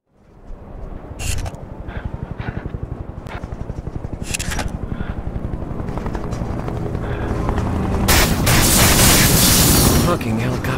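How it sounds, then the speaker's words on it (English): Helicopters in the shooter game Wanted: Weapons of Fate thump with a rapid, steady rotor chop that builds louder over time, punctuated by sharp bursts of gunfire and explosions, ending in a heavy blast of noise. "helicopters again"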